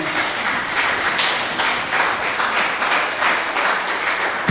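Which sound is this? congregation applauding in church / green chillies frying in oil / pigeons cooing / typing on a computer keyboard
congregation applauding in church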